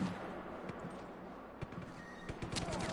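Grenade-triggered gas tank explosions in the Just Cause 3 video game, heard as a dense run of sharp bangs and crackling blasts over a constant roar of game noise, with several louder hits near the end.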